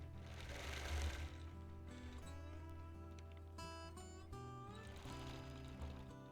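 A sewing machine runs steadily while edge stitching a custom quilt, a continuous mechanical hum with pauses and restarts as the stitching is backtracked along the edge, fairly close and with no voices.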